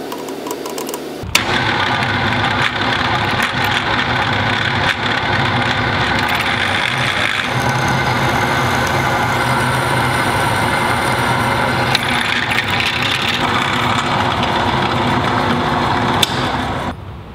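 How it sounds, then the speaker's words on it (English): A steady mechanical whine of a drill press boring into metal with a small bit, loud and continuous after a brief quiet start, with no voices. "I'm actually going to pre-drill it with this small one"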